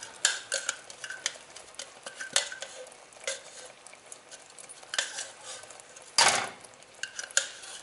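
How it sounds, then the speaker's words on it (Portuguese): Salted caramel syrup ingredients, including cream, stirred in a pot with repeated clinks and scrapes of a utensil against the metal, irregular and close, with one louder knock near the end. "A gente vai mexer, tá? Para misturar bem aqui os ingredientes."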